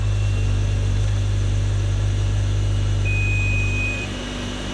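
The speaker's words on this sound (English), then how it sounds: "car starts." A turbo Honda Civic Si engine runs at a steady idle with a constant low hum, joined briefly by a thin electronic tone before the level drops slightly near the end, with no voices.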